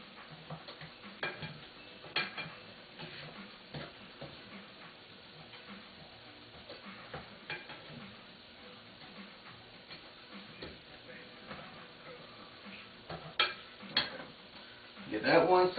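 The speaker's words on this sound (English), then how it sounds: "flip your shrimp so that they cook evenly on both sides" Shrimp cook in a pan while tongs flip them, giving a faint sizzle under repeated light ticks and clacks of metal, with louder clatter toward the end.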